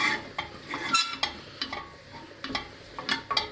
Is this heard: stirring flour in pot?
yes